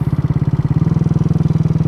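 A Venom X18 motorcycle engine idles roughly, running rich and close up, with a loud, rapid, evenly pulsing thump that stumbles slightly as if about to bog down.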